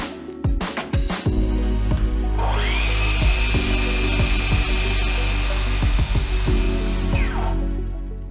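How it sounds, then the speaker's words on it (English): A Bosch track saw starts up and runs at a loud, steady high-pitched whine as its spinning blade plunges into wood, with repeated thumps and knocks throughout, then winds down toward the end. "with a track saw, you do plunge cut while the blade is spinning"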